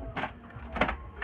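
An HP DeskJet printer shuttles its ink cartridge carriage, giving two short whirring motor bursts with a mechanical clack, close and moderately loud, then a third starting at the end.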